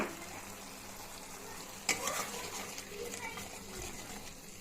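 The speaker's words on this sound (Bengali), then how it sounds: "আমি পোস্ত আর কাজু বাটাটা অ্যাড করবো। এটা দিয়ে কিছুটা কষিয়ে নিই।" Poppy seed and cashew paste frying with ginger paste in a pan, a steady sizzle with one sharp clatter of a spoon and some stirring, faint background sounds throughout.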